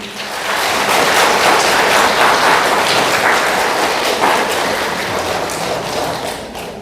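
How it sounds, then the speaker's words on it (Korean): A church congregation at a Tuesday charismatic praise Mass claps in welcome, a loud, dense burst of rapid applause that swells after a second and holds steady before easing slightly. "서로에게 격려하는 의미에서 환영의 박수"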